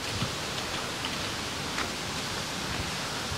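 Heavy rain pours steadily in a mountain area hit by a landslide, a dense, even hiss with no pauses and a few faint scattered drops and knocks.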